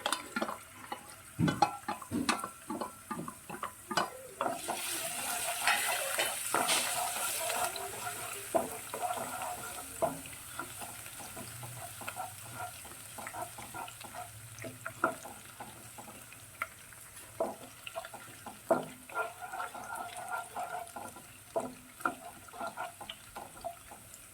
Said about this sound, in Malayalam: ഓയിൽ ചൂടായി കഴിഞ്ഞപ്പോൾ ഇഞ്ചി ഇഞ്ചി ഇട്ടേ അതിനുശേഷം നമ്മൾ അരിഞ്ഞു വെച്ചിരിക്കുന്ന വെളുത്തുള്ളിയും കൂടെ ചേർക്കുകയാണ്